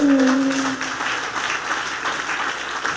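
A church congregation claps during a sermon on faith, a loud sustained roomful of applause that starts strong under a brief voice at the start and then continues evenly on its own.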